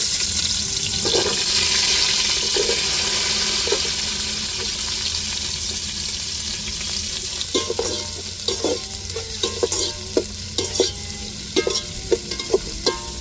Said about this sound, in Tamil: வெங்காயம் சேர்த்துருக்குறோம் வெங்காயம் நல்லா வதங்கட்டும்